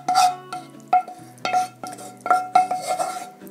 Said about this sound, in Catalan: I barregem bé, primer una mica amb la cullera